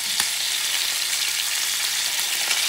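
A bison heart sizzles in a hot pan, a steady loud frying hiss with a couple of brief crackling pops.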